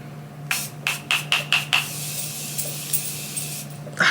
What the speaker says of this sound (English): I don't know why I did my setting spray like that.